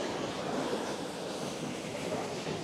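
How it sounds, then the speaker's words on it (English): Turbulent river water rushes in a continuous broadband roar, close and steady throughout, with no voices over it, along a mountain river near the Blue Eye in Theth, Albania. "The water is so turbulent."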